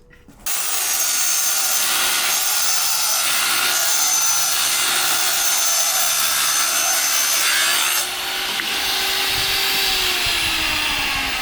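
A piece of wood fence board is sawn off by hand while a gate is fitted into an existing fence, giving a steady, loud rasping stroke that runs nearly the whole time with a brief dip near the end.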